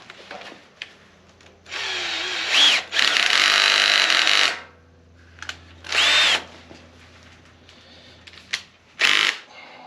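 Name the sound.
electric drill running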